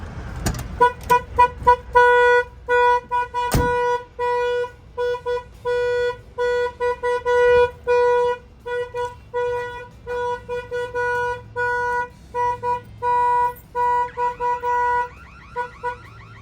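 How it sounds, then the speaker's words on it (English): A Volvo VNL860 truck's alarm goes off after a door is opened, sounding as loud, repeated electronic tonal chirps and beeps in a fast, broken rhythm, starting with a sharp thump and continuing throughout. "If somebody opens the door, of course, that will set off the alarm"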